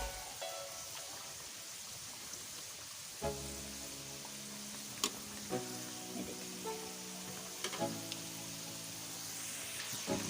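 Potato samosas frying in oil over a medium flame, a steady broadband bubbling hiss throughout with a few sharper pops and crackles, fairly quiet and close, no talking.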